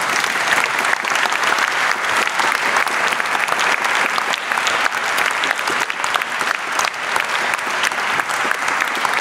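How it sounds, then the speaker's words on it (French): A lecture-hall audience at a public science talk on quantum physics breaks into sustained applause, a thick, even wash of many hands clapping at a constant level with no speech over it. "Si vous trouvez que c'est une bonne initiative, applaudissez-le"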